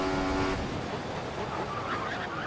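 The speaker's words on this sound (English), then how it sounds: "And we lock up." An F1 car in F1 2014 locks its brakes, and a short engine whine cuts off into a rough, loud skid of scrubbing tires lasting a couple of seconds.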